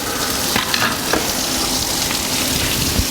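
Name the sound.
water draining from engine block plugs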